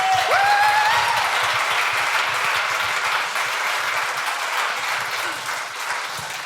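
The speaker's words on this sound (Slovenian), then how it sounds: "En lep aplavz, prosim." Sustained audience applause for two vocal soloists at a charity concert, steady and full throughout with a brief high whistle near the start, a crowd clapping together without words.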